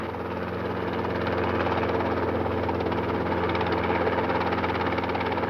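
A helicopter hovers low over a game reserve during an elephant relocation, a steady droning engine and rotor hum holding constant and close with no talk.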